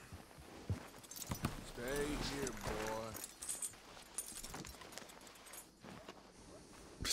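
Horse hooves clip-clop in the Red Dead Redemption 2 video game, a steady rhythmic patter mixed with other game sounds while someone talks over it throughout.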